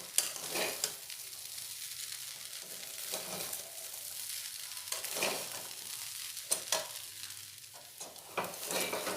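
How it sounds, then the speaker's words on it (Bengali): Chira polao, flattened rice pilaf, being stirred with sugar in a pan, giving a soft continuous scraping and light sizzle with occasional louder spoon strokes, close and steady with no talk. "দিয়ে আবারও চিনির সাথে খুব ভালোভাবে মিশিয়ে নেব।"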